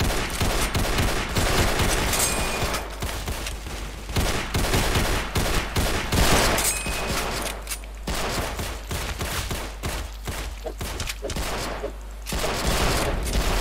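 Dense, continuous gunfire fills a World War II battle in Roblox War Simulator, with rapid volleys and overlapping shots that barely pause and only dip briefly.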